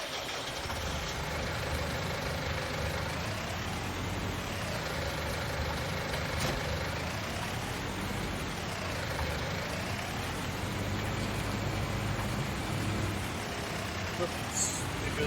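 Tractor engine in Farming Simulator 19 on the Ballydorn Farm map, a steady mid-pitched idle and drone with slow rising and falling revs under a continuous hum.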